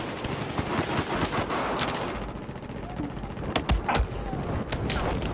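Gunfire from a gun in Battlefield 4, with scattered sharp shots and mechanical clatter over a dense, busy game soundscape.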